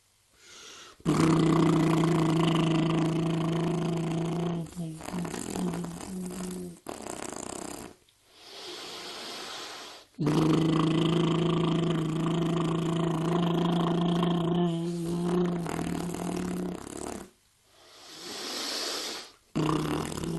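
A person imitates a motorboat by buzzing a voiced B sound through loose lips while holding up the cheeks with the fingers. Two long, loud, droning buzzes are followed by shorter ones, with pauses between them.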